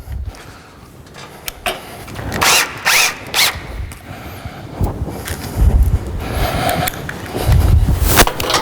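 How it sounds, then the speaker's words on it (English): A power drill bores through the hole of a metal shelving bracket in several short loud bursts with brief pauses between, close up and without talk. "And you just drill through that."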